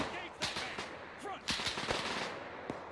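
Rapid bursts of gunfire in a video game battle at Raate Road, sharp close cracks scattered irregularly across the clip with a few louder single shots.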